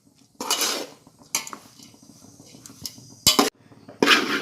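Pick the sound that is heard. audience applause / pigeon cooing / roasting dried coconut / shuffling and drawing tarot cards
roasting dried coconut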